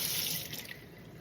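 Tap water runs steadily from a household faucet into a container, a close, constant splashing rush that lasts about a second.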